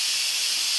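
Loud, close steam hisses evenly out of an opened pot of quick stew with gravy, carrots, celery and potatoes, a constant breathy rush with no voices.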